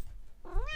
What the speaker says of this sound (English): Cat interruption.